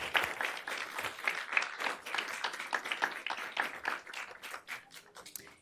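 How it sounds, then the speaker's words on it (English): Steady audience applause fills a room at a St. Louis League of Women Voters candidate forum, dense overlapping hand claps sustained at an even level for several seconds with no talk over it. "And let's give all of those people a round of applause."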